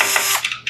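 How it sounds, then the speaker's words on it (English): Screwdriver backing case screws out of a Sharp MX-407FU1 fuser unit, a short, close, ratcheting clicky turn with no voices. "we're going to take our screwdriver and we're going to take off"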